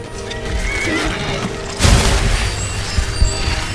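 A horse whinnies loudly in a Skyrim video game over a busy, noisy backdrop, with hooves clopping and a thud partway through.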